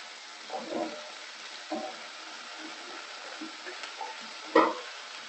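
Potatoes go into a frying pan of papaya curry and get stirred, with a few soft wet sloshing thumps and scrapes over a faint sizzle, close by and fairly quiet, ending in one sharper clatter.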